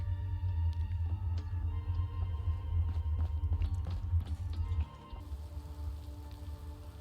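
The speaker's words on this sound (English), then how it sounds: "still a bit rainy and overcast." Steady rain falls across an overcast, post-apocalyptic London in the game Fallout London, a continuous soft patter with scattered drop hits over a low rumbling ambience, no talk.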